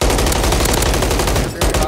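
Rapid automatic gunfire from a first-person shooter game fills the whole stretch as dense, continuous bursts, loud and close, pausing very briefly near the end before the firing resumes.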